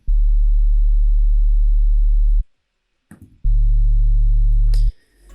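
A pure sine-wave sub bass from a single Serum synthesizer oscillator plays as two long, steady, loud low notes, each cut off abruptly, with a short gap of near silence between them.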